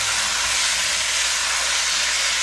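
Octopus and vegetables stir-frying in a hot pan with spicy sauce for Korean nakji bokkeum give a loud, steady hiss and sizzle that runs unbroken from start to end, with no talking.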